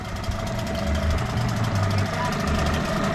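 A HANGKAI 6HP outboard motor idles steadily with a low, continuous rumble and faint knocking, holding an even level throughout with no clear speech over it.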